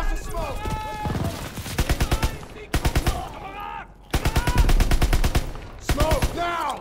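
Sustained bursts of machine gun fire in a Call of Duty WW2 battle, repeated rapid volleys with short gaps, loud and close, mixed with shouted voices and game sound effects.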